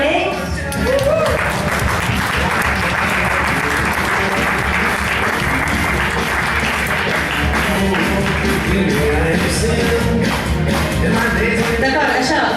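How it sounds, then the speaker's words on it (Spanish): Sustained, loud applause from an audience at a poetry reading in Terrassa, steady dense clapping throughout with a few voices and whoops mixed in. "Un altre aplaudiment per ell."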